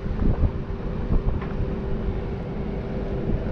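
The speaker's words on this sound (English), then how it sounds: "The wind is coming up very strong now." Strong wind gusting across a fishing pier, a steady rushing roar buffeting the microphone with low thumps, loud and continuous with no speech.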